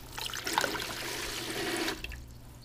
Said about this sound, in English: And so long as you hold that button down and there's pressure, the water comes out.